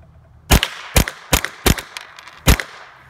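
A Ruger 10/22 rifle fitted with a tape mod fires five sharp, loud cracks, close by, the first four spaced about half a second apart, then a short pause before the last.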